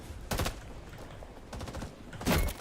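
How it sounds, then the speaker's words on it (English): Gunfire in the Vietnam War video game Rising Storm 2: Vietnam, with three loud bursts of rapid shots separated by quieter battlefield noise, and the last burst the strongest. "I'm getting shot at, as you can see."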